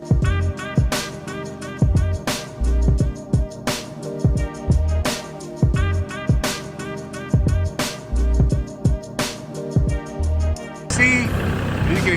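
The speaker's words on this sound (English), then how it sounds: "I'm gonna jump on this tractor real quick" A heavy engine chugs steadily up close, with loud rhythmic thumps and clanks repeating every second or so, then a shift to rougher noise at the end.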